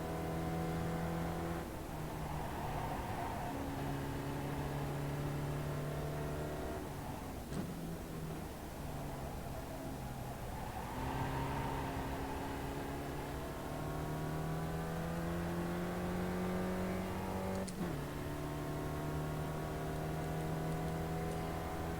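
Race car engine in the iRacing sim at Mid-Ohio, a loud continuous roar with rising and falling pitch as it revs through gears and brief shifts, steady and close throughout with no talking.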